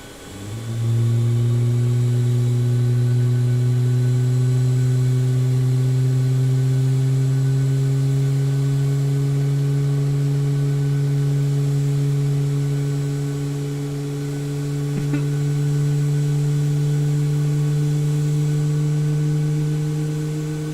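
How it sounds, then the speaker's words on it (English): Boeing 737 MAX 8 jet engine spooling up in Microsoft Flight Simulator 2020, a steady low drone with rising whining tones that climb gradually and hold for about twenty seconds, no talk. "juicy engine starts"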